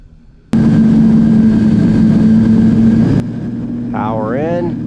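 An RC model airplane engine drones loud and steady during a fly-over at a club field, then drops abruptly to a lower, quieter hum, with a brief rising and falling whine near the end.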